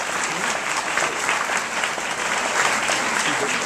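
An audience at the opening of a tolerance fair gives a dense, sustained round of applause, loud and even throughout.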